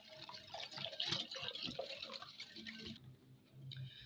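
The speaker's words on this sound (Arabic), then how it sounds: "عندنا بقى كوبايتين ميه سخنين ونبتدي بقى نقلب" Hot water is poured and stirred into a mango jelly mix in a home kitchen, a soft splashing and clinking churn close by that thins out after a few seconds.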